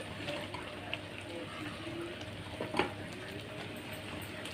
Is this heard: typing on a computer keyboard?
no